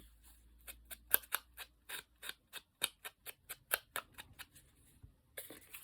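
Scissors trim craft paper in a quick series of about a dozen sharp, close snips at a steady rhythm, quiet and clean with nothing else over them.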